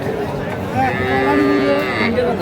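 A young bull calf at a Comilla cattle market gives a drawn-out, wavering moo, close and loud, over faint background murmur.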